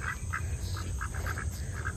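Pekin ducks and a mallard quack in short repeated bursts, a dozen or so calls in quick succession at moderate distance over a low outdoor rumble, with no voices.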